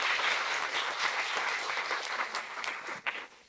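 An audience at a public schools brunch gives a round of applause: steady, dense clapping that fades toward the end, with no voices over it.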